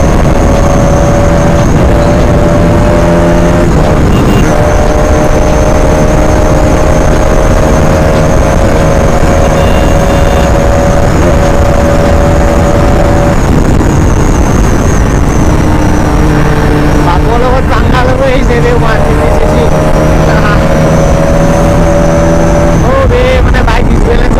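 A Dominer 400 motorcycle runs at highway speed alongside an RS200 while overtaking, a loud sustained engine whine rising and falling in pitch with gear and throttle changes, and heavy wind rush throughout.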